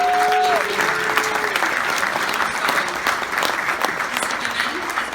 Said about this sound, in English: We can all give a round of applause for teachers,